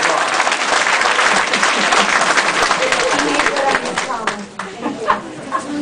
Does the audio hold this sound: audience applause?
yes